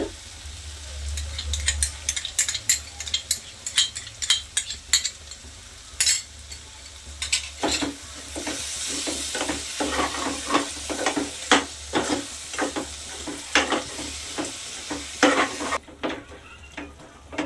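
A dal khichdi mixture fries in a pan with a constant sizzle, as a spoon stirs and scrapes through it in irregular bursts that get busier and louder partway through, heard close up with no talking.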